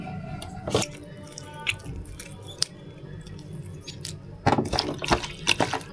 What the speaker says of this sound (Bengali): লবণ আর লেবুর রস দিয়ে ভালো করে মাছটাকে ধুয়ে নিচ্ছি